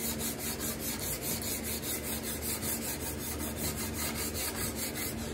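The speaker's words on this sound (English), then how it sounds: "just showing you how you hand scrape a table" A card scraper is drawn with the grain across a coated wooden gate-leg table, making a steady, continuous dry rasping that pulses in quick regular strokes, close and fairly loud with no talk.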